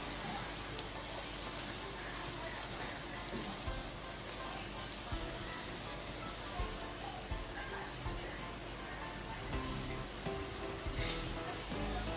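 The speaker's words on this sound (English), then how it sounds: "Just gonna mix up everything." Cabbage steaming in a pot for Jamaican steamed cabbage is stirred, a steady close sizzle and wet clatter of juices running alone without pause, with soft scraping and shifting throughout.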